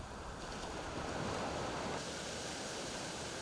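Ocean surf at Tanjung Bira beach rolls in as a continuous broad wash of breaking waves, steady and fairly loud with a slight swell midway, no voices present.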